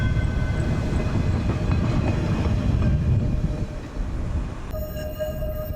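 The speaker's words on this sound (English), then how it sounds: "Here's a Streetcar of Kenosha." A Kenosha streetcar passes with a steady, fairly close rolling rumble that continues without pause, then the sound thins toward the end.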